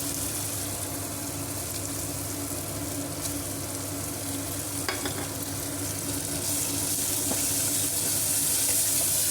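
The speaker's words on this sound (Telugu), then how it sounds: "ఇది కూడా వేసేసుకుందాము ఆయిల్లో. పచ్చి వాసన పోయే వరకు ఫ్రై చేసుకుందాము 1 నిమిషము" A paste of onion, cumin and curry leaf fries in hot oil with a continuous broad sizzle and occasional stirring scrapes, steady and close, no voices.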